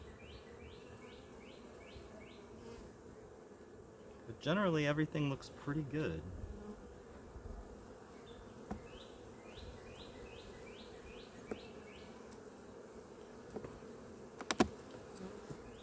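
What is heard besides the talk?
honeybees buzzing around an open hive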